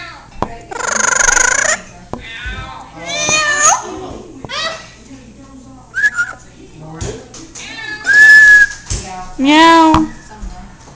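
Pet parrot whistling and singing in bright, rising and sliding phrases, mixed with meow-like calls and spoken imitations, in close bursts separated by short pauses.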